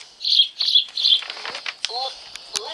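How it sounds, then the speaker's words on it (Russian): A sparrow chirps in a children's alphabet game: a run of short, bright, repeated chirps up front, then scattered lighter tweets with a brief voice-like sound mixed in. "Воробей."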